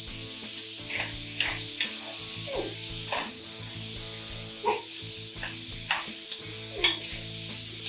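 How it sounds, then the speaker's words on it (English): Vegetables half-sautéing in a pot for a quick soup, a constant hissing sizzle with a spoon scraping and stirring at irregular intervals, close by with no talking. "We don't want to overcook the vegetables, just half saute them."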